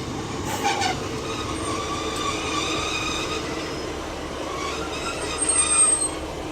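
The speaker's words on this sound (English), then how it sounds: "It's 150-263 on the service to Swindon." Class 150 diesel unit 150263, on a Swindon service, slows into Stonehouse station. Its wheels give a drawn-out, high-pitched squeal over a rumbling rail roll, close by and continuous.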